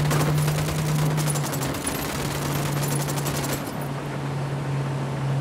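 Sustained automatic gunfire in Ghost Recon Wildlands, rapid evenly spaced shots rattling over a steady low hum and a dense, loud wash of battle noise.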